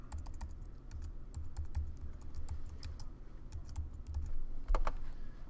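Someone types on a computer keyboard, a quiet close patter of uneven keystrokes with a firmer burst of clicks near the end and no talk.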